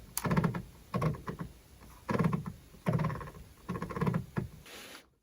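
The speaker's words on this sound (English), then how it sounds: "Swivel the head and it sounds like it's purring." Quick bursts of small plastic clicking and ratcheting from swiveling the head of a LEGO Tuxedo Cat 21349, five short runs in a steady rhythm, close and fairly quiet.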